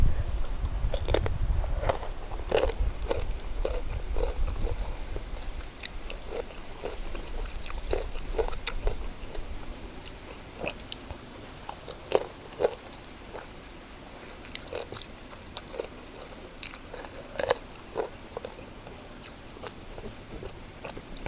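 Repeated crisp bites and steady crunchy chewing of sour green mango dipped in spicy fermented fish chili dip, close and intimate, irregular crunches recurring through the clip over a low background rumble.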